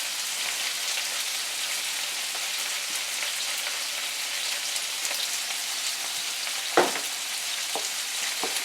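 Bok choy and tomato stir-frying in a pan: a loud, steady sizzle that holds throughout, with one sharp knock near the end and no speech.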